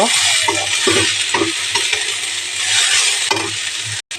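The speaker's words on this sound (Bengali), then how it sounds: "এরপর এটাকে একটু নাড়াই চাড়াইয়ে নেব" Chili powder, turmeric and salt being stirred in a hot frying pan, a constant loud sizzle broken by repeated scraping strokes of a utensil against the pan, close up.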